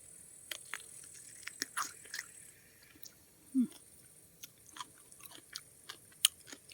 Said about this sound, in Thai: เดี๋ยวจะกัดให้ดูเด้ออันนี้เด้อ